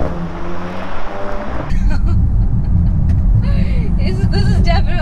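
Bentley Continental GT coupe, 2019, with a W12 engine pulls away under throttle, a loud steady rumble and road roar filling the cabin after a quieter opening with a voice talking.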